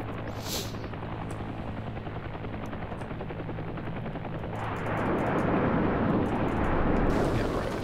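Helicopter rotor and turbine drone from the Heliborne combat flight game, steady and loud, with the engine surging louder and rougher toward the end amid sharp bursts of gunfire.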